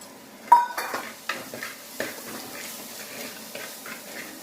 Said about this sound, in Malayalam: വഴട്ടി എടുക്കണം.